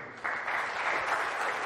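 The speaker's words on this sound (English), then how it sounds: "big round of applause, everybody" An audience at a conference talk bursts into applause, a dense wash of clapping that starts abruptly and continues steadily, with no speech over it.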